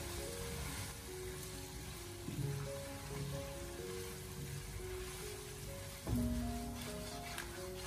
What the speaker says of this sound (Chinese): 再把切好的青红辣椒添加进来，然后再继续的给它翻炒一下，把青红辣椒翻炒至成熟